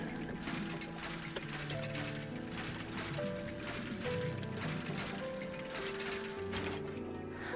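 A dredging winch turns in the fishing game DREDGE, a steady mechanical ratcheting and gear clatter with rapid clicks, overlaid by sustained musical tones, continuous and fairly loud.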